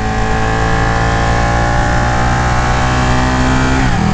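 Ducati Panigale 959 motorcycle, a 2018 bike, its engine revving loud and close with a sustained high-pitched drone that holds steady, then drops in pitch at the end.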